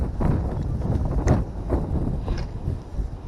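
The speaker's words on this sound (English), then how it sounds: "since this wind is kind of killer" Strong wind buffets the microphone outdoors on a panfish outing, a low rumbling roar in uneven gusts throughout.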